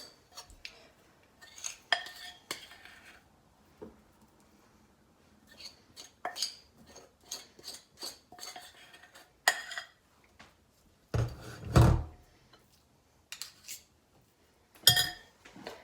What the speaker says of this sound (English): I actually need to get a spoon to scrape the sides of this bowl.